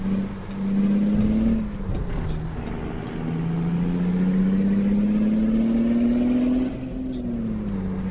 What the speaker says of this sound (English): Revs the engine a little harder than I wanted.